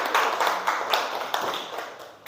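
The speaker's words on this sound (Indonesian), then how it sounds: "Tepuk tangan." Children in a classroom clap together, a quick, moderately loud burst of overlapping claps with several sharper accents, heard without talk.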